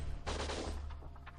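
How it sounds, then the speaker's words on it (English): A short burst of gunshots in the shooter video game Winback, a muffled, fairly faint rattle of a few quick shots. "they're just shooting at each other"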